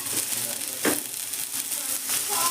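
Small diced pieces of a medium potato sizzle in a little hot oil in a wok for a vegetarian banana-stem curry. The frying hiss is steady and close, with one brief stirring scrape near the start.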